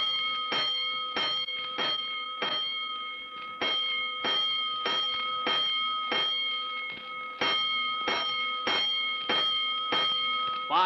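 Fire alarm bells strike five times as a five-alarm signal in a fast, repeated ringing series, each clang decaying briefly before the next, loud and steady.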